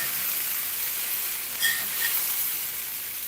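Okra frying until crispy in oil in a cast iron pan, a steady bright sizzle with faint crackles, including a brief louder pop partway through, no talking.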